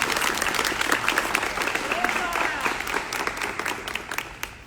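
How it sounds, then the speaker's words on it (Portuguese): A crowd at a conservative political event applauds warmly, a dense wash of clapping that holds steady, then thins and scatters toward the end, with a voice faintly audible underneath. "eu queria que nós todos aplaudíssemos o Rafael aqui"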